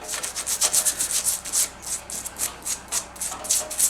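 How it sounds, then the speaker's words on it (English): Hand sanding across a Crosley Sector 51 radio cabinet, with quick rhythmic rubbing strokes repeating steadily, close and fairly loud with no talking. "Give this a good smoothing."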